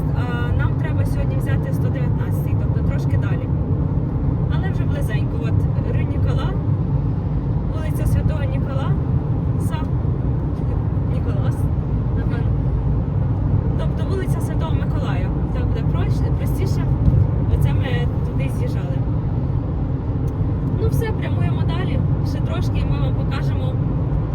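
A car cruises along a wide highway, a steady, loud road and engine drone with constant tire rumble and no letup.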